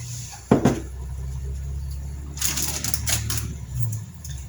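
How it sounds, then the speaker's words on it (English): Knife thinly slicing tomatoes on a cutting board for a lentil salad, a sharp thud followed by a quick run of soft close chopping taps over faint kitchen background noise. "I like to thinly slice my tomatoes and then I cut them in half"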